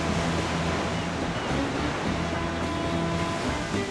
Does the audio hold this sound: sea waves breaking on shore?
yes